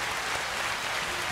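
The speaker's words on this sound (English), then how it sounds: "Let's give this man a round of applause for the work he's done." An audience applauds for guest Koolaid George, an even, continuous wash of clapping heard from a little distance, alone with no voices over it.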